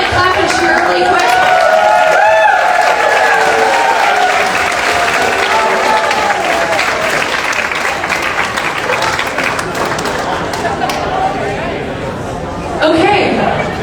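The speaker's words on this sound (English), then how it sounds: "Can you clap and cheer really quick?" An audience at the Harvest of the Heart 2024 charity auction bursts into sustained applause and cheering, loud and dense, with crowd chatter mixed in before a final swell near the end.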